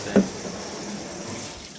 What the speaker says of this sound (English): So the water now stops the developing process.